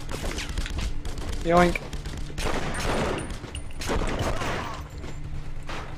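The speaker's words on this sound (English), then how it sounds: "Oh my god, I've just realised they're automated bloody turrets, those things." Automated turrets firing in The Punisher on PS2, rapid bursts of gunfire in the game mixed with mechanical clatter, running under a man's speech throughout.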